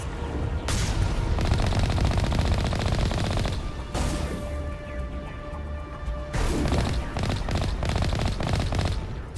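Enemy gunfire in the Mass Effect video game, loud sustained bursts of automatic shooting with dense crashing impacts, a brief lull near the middle before the firing picks up again.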